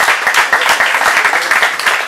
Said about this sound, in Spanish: Un aplauso para uno acá